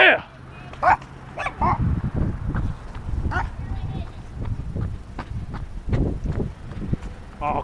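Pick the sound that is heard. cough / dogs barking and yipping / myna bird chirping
dogs barking and yipping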